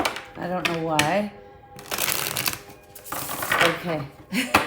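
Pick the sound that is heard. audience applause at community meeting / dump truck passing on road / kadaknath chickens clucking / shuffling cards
shuffling cards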